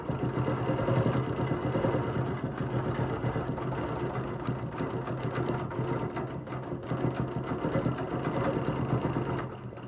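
Sewing machine stitching at a long stitch length of 6 per inch, running steadily and close throughout with an even mechanical chatter.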